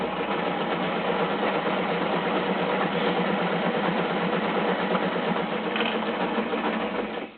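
Sewing machine stitching around the edge of a fabric Easter bag, running as one steady, continuous mechanical whir for the whole stretch, close and fairly loud with no talking.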